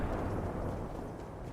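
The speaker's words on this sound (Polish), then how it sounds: "Więc rzucam tam granaty." Grenades thrown in the video game Fortnite set off a dense, continuous rumbling roar of explosions, loud and broadband, with no clear break across the short stretch.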